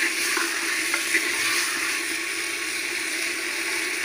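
Ground ginger, cumin and chili paste fry in mustard oil in a clay pot over a clay stove, producing a steady bubbling sizzle with a faint wet crackle, close and constant.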